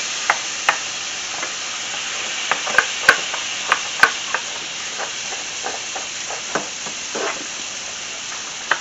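Garlic fries in melted butter in a pan with a constant bright sizzle and hiss, punctuated by scattered sharp pops and spatters.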